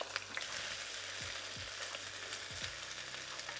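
Beef strips laid in a single layer in a hot wok, frying with a steady loud sizzle and a few soft clinks and scrapes, no voices.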